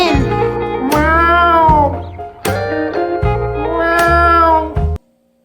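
A cat lets out three loud, drawn-out meows close by, each rising and falling in pitch, with brief gaps between them before the sound cuts to silence.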